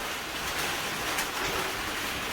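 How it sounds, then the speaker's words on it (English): Heavy rain falling outdoors, a dense steady hiss of drops with no gaps, fairly faint and even throughout. "There are no clear skies because it's raining heavily."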